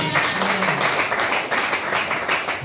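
Church congregation clapping hands in praise, many people applauding together in a steady dense patter, loud and close, with a faint voice briefly underneath.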